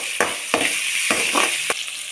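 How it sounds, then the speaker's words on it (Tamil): A tomato sautés with asafoetida in a hot pan, sizzling loudly and steadily up close. Regular stirring strokes come through as short bursts about every half second. "கொஞ்சம் பெருங்காயத்தூள், ஒரு தக்காளியை வதக்கிடலாம்."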